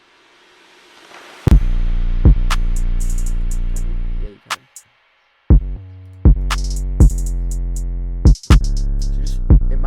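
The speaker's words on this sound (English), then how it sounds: "Let me just show you the drums." Beat drum track playing back in a music production session, with punchy, evenly spaced kick and snare hits and crisp hi-hats that stop briefly and start again; a couple of voices exchange a few words over it.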